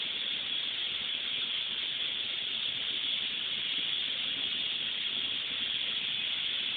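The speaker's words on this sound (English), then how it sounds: "Steaming away." Steam hisses steadily from a steam locomotive on the Castletown Railway on the Isle of Man, a continuous, even rush of vented steam that stays fairly loud throughout with no pauses.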